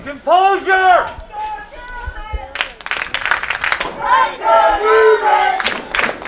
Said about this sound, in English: Newman crowd starting a little chant, trying to get their team fired up